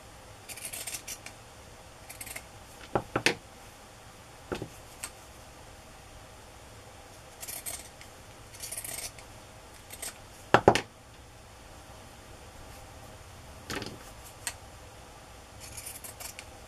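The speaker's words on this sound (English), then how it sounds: "I think I'll just use my pinking shears." Pinking shears cut paper for a journal project in a few sharp, separate snips with long quiet gaps between them, close against a faint hiss in the room.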